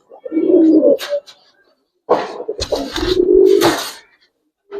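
Racer pigeons in a loft give low, rolling coos in two drawn-out bouts separated by a pause, with some scuffling and wing noise mixed in. The birds sound close.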